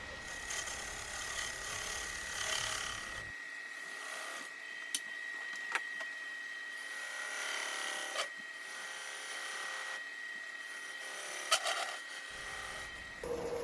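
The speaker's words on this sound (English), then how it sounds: "Now I'm just establishing the tenon so that I will be able to reverse the bowl and put it in a chuck." Wood lathe turning a wet end grain bowl while a tool cuts a tenon, a steady whirring hum with intermittent scraping and brief sharp ticks, close and fairly quiet, without talk.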